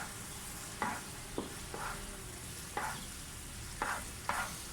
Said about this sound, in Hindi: जब तक हमारा ऑयल ऊपर नहीं आएगा हम उसकी भुनाई करते रहेंगे।